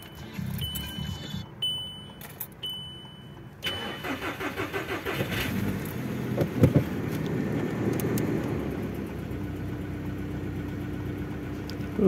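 A VW Golf 5 car engine cranks briefly, catches and starts, then settles into a steady mid-pitched idle heard close by for several seconds.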